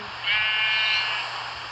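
A single sheep in the video game Minecraft lets out one drawn-out, wavering bleat lasting about a second, clear and fairly close over a low background hum.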